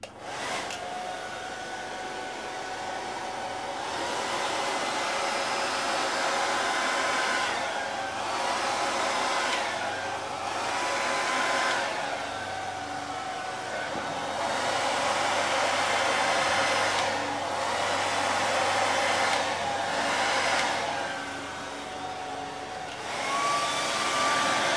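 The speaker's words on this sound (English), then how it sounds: "Now I'm gonna grab my blow dryer" A handheld blow dryer blows steadily across a free-form resin butterfly wing, a continuous loud whooshing airflow with a slight whine that wavers a little in strength as the dryer moves, heard alone with no talking.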